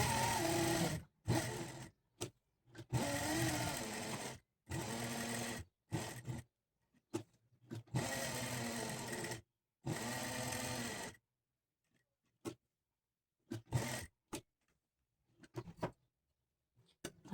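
A sewing machine stitches a blouse neckline in short bursts of rapid mechanical whirring, several runs separated by brief stops, then sparse quiet taps and short spurts toward the end; close and clear with no talk.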